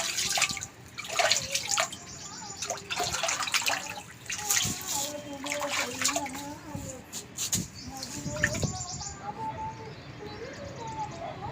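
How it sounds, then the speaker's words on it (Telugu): Water trickles and splashes down inside a temple near Jadcherla town, a busy wet patter with scattered drips. Birdcalls and pigeon-like cooing keep rising over it. "లోపల చూస్తే నీళ్ళు ఉన్నాయి. వాటర్ కిందికి జారుతూ ఉన్నాయి."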